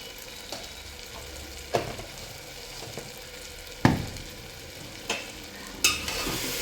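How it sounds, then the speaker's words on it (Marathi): Millet daliya khichdi base with turmeric, red chili powder and salt being sautéed in a pan, a faint low sizzle punctuated by several sharp spoon knocks and scrapes against the vessel, with no speech. "चांगलं परतून घ्यायचं आहे."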